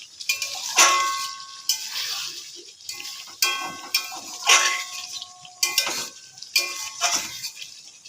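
A metal spoon scrapes and clinks against a pot while mutton is stirred and fried for mutton kosha, giving repeated rhythmic bursts of scraping about once per second, close and clear, with only a faint sizzle beneath.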